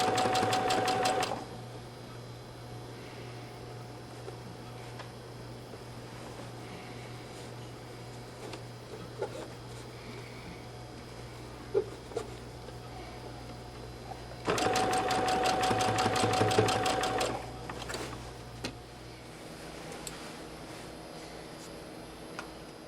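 Sewing machine running slowly while stitching gathers on a colonial costume dress, two steady whirring bursts of rapid stitching separated by a long quiet stretch of small handling clicks and rustles.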